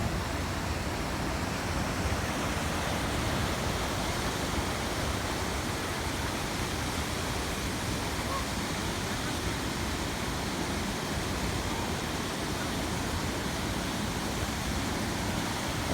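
Stream water flowing over rocks at Huai Wai, Nong Bok, Khammouane, a constant broadband rushing wash, steady and unbroken, with no distinct events.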